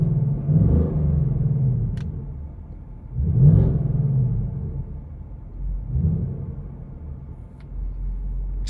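A 2024 Ford Mustang GT Premium V8 in drag mode revs three times in low, rumbling swells, each rising and fading back to a deep idle, heard from inside the car.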